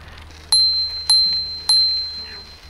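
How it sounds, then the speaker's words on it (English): Three bright, evenly spaced dings of a bicycle bell ring out clearly over a quiet outdoor background. "So you can see that bell, although it's optional, is really useful."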